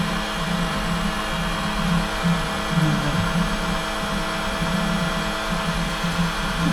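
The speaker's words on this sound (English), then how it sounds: "I'm just using this electric pump to suck the gearbox oil out." An electric pump sucks gearbox oil out of a narrowboat engine, giving a steady, loud mechanical hum with a low drone and a constant whirring that runs unbroken throughout, with no voices over it.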